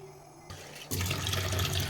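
Water pours steadily into a grinder jar holding ingredients for fufu, a close, continuous splashing rush that starts abruptly after a brief quieter lead-in.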